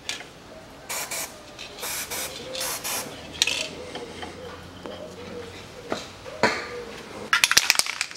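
Lubricant sprays from an aerosol can onto the threads of a tie rod end on a 2011 Toyota RAV4 2.0 during front hub bearing work. Several short, close hissing bursts come in quick succession, with light handling clicks between them.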